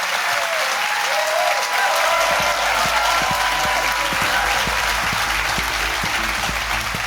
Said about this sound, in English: will you please give a huge round of applause to still my favourite guest, Bob Mortimer